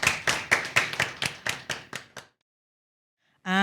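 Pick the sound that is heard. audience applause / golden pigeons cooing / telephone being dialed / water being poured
audience applause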